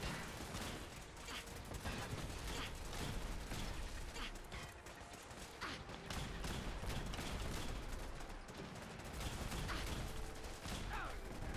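Turrets inside a base fire in rapid bursts during a Fallout 4 firefight, a loud, dense clatter of repeated shots and mechanical rattling that runs without pause.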